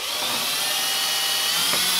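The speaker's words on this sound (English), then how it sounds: "Drill the other hole." A power drill bores a second hole through a kayak's plastic hull, making a continuous close whirring drone for the whole stretch, with a faint brief tonal shift near the end and no voices.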